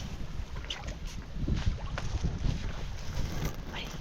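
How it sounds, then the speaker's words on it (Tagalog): Strong wind roars and buffets the microphone continuously after a typhoon, a heavy low rumble with gusts, like being out on open water. "Ang lakas ng hangin."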